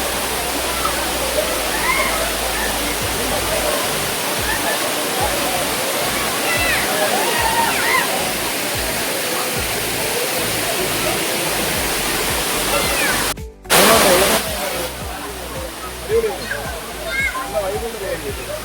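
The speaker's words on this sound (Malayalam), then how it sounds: "മറ്റൊരു ടൂറിസ്റ്റ് പ്ലേസായ മേഘമലൈ കുന്നുകളിൽ നിന്നുമാണ് ഈ വാട്ടർഫാളിന്റെ ഉത്ഭവം." A forest waterfall fed from the Meghamalai hills roars steadily and loudly throughout, a dense continuous rush with a brief dropout near the end.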